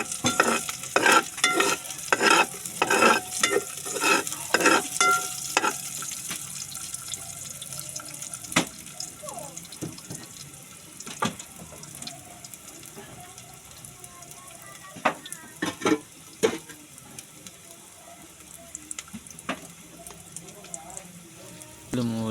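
Garlic frying in a home kitchen pan gives a close sizzle under stirring and scraping clatter, with sharp utensil knocks against the pan early on, then a softer sizzle with scattered clinks.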